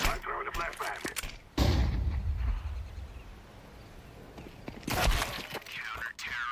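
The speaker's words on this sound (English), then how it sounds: "I'm throwing a flashbang." A flashbang grenade goes off in a tactical shooter match, heard as a sudden heavy booming burst that rings and fades over a few seconds, with a sharper crack near the end and faint background game noise.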